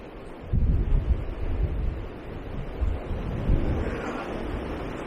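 Wind buffets a small riverbank in winter, rumbling steadily and close with gusty swells and no other clear sounds.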